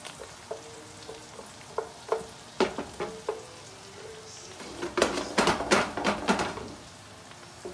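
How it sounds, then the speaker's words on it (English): Garlic and onion sauté in a pan for steamed mussels in white wine: a light sizzle with spaced taps of a utensil, then a quick flurry of louder stirring scrapes and clatter. "we give a nice turn on this too. Make sure to not burn the garlic or onion, everything."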